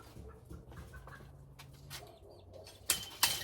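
A garden bird, likely a chicken, flaps its wings in short bursts near a suburban sweet potato patch, with two sharper loud flurries toward the end over faint background noise.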